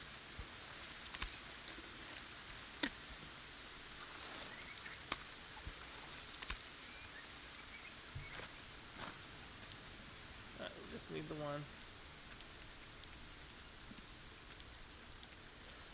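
Steady rain patters in the jungle survival game Green Hell, a soft continuous hiss with scattered drip clicks throughout, and a voice speaks briefly partway through.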